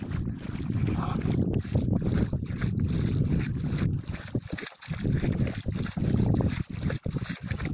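A boat's low rumble on a river, buffeted by heavy wind noise across the microphone, steady and close with brief gusty dropouts.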